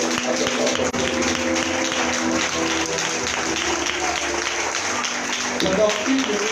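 A congregation at a church conference plenary claps and cheers in a steady, dense wash of applause that stays loud and even throughout, with a voice faintly mixed in.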